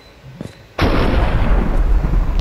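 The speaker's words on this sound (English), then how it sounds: "Firecracker. Firework rocket." A firework rocket in the Minecraft video game bursts with a loud, sudden blast after a faint pop, followed by a sustained crackling roar that fills the rest of the moment.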